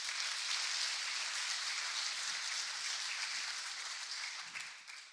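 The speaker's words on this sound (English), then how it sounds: "I'd love a big round of applause for everyone who made this possible." Conference audience at Devopsdays Eindhoven applauding, a dense sustained wash of many hands clapping in a hall that tapers off slightly toward the end.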